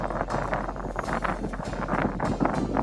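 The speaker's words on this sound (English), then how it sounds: "Here it was getting a little bit windy" Wind buffets the microphone on a pedal boat on the O'Lac lake near Casablanca, Morocco, a steady, close, rumbling rush with gusty surges throughout and no talking.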